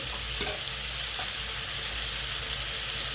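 Village-style chicken and onion fry in a pan with a steady, close broadband sizzle, marked by a sharp utensil click early on and a fainter one later.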